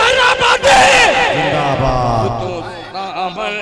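A large crowd at an outdoor mushaira poetry gathering roars back in unison to a Nara-e-Takbir call, loud massed shouting voices swelling and then trailing off over a few seconds.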